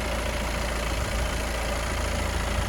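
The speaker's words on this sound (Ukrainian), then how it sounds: "Двигун працює рівно" A 2018 Skoda Kodiak 2.0 TDI diesel engine idles steadily up close, a continuous low rumble with a faint even knock and no talking.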